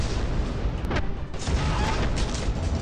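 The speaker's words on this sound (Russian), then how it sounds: "Он, смотри, он дует выстрел за выстрелом." Shot after shot of cannon-like gunfire in the Tower Conquest mobile game, loud booming bursts layered over a constant dense battle noise with a few sharper reports standing out.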